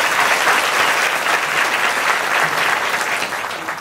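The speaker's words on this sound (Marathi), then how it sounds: "याच्यासाठी एकदा जोरदार टाळ्या झाल्या पाहिजे." Loud, sustained applause from a large crowd at a kirtan gathering during a Kakad Aarti ceremony fills the whole moment, dense and steady before easing slightly at the end.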